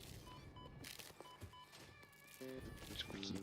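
Cat-like creatures in the video game Satisfactory give short, faint meows and yowls through a busy game soundtrack with scattered clicks and thumps.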